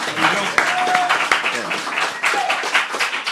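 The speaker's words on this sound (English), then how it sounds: "Let's give a round of applause to Dylan Walsh, who just sat down" A live audience claps and applauds for a guest at a comedy podcast taping, a dense, steady patter of hands running throughout with talk and laughter mixed in.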